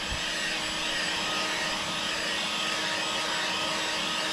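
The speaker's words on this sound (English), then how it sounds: "that's all it takes really, is just a bit of drying with the heat gun" A heat gun blows continuously while drying fresh paint on a car smart repair. It makes a steady, even, close roar of blown air, with no breaks and no talking.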